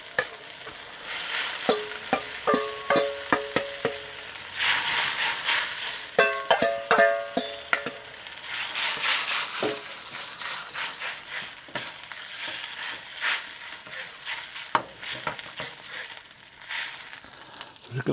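Chillies frying and being stirred in a pan, with steady sizzling broken by repeated scraping and clattering strokes of a utensil, close and fairly loud throughout.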